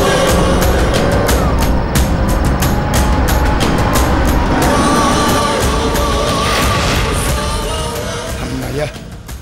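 Car arriving on a road, a loud continuous engine and tyre rumble that stays close before easing off at the end, with rapid bangs and clatter over it.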